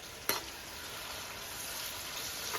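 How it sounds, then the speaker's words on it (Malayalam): Onions sauté in a pan with salt and turmeric for a chicken curry, a steady close sizzle and fry with one sharp clink of a stirring utensil near the start. "സബോള നന്നായി ബ്രൗൺ കളർ ആവണ വരെ നന്നായിട്ട് വഴറ്റി കൊടുക്കാം"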